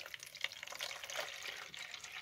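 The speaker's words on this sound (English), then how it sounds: "I'm going to pour in my cold water that's right around 55 degrees into there" Cold water is poured from a container into an outer tub around a beaker, giving a soft, fairly quiet splashing and gurgling stream that runs continuously with small bursts.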